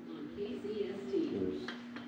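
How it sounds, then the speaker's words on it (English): Pigeons coo in Bodega Bay, California, a low, throaty coo close by, with faint background murmur and a couple of short ticks near the end. "Watch out for the birds."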